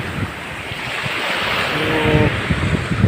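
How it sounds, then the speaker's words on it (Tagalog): Strong sea waves crash against the shore in a steady, loud wash of surf, with gusts of wind buffeting the microphone throughout. "lakas ng mga alon pala ngayon dito."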